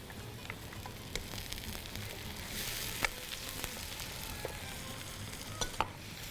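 Ginger garlic paste frying in a pan, a soft steady sizzle with faint crackles and a few light ticks of stirring, quiet and close, no talking.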